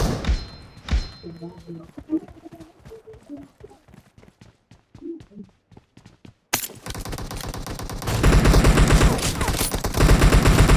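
Gunfire in a mobile team deathmatch shooter game, with scattered single shots and voice lines early on, then dense rapid bursts of automatic fire that grow loud and sustained toward the end.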